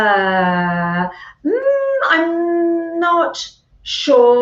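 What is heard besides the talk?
dogs barking and howling at dinner time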